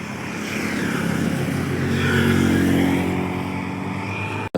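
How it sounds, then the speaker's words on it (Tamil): A vehicle passes along a road near a residential plot in Salem, Tamil Nadu, its engine drone swelling as it approaches and fading away, loud and close, with no talk. "வண்டி போகுது"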